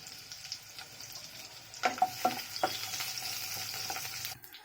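Slit green chilies and chopped ginger and garlic drop into white oil, a quiet sizzle that rises with a few sharp spattering pops and continues steadily up close.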